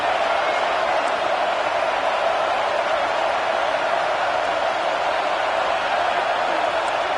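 Home crowd at a college football game between Florida and Oklahoma roars in a steady, dense wash of cheering and noise that fills the stadium throughout.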